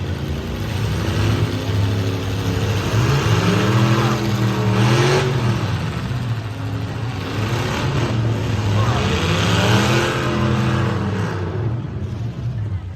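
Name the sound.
demolition derby car engines revving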